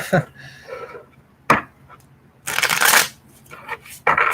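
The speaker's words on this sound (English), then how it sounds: "I'm shuffling the cards right now in anticipation." Tarot cards being shuffled by hand, several short riffling bursts and taps with gaps between them, close and fairly loud.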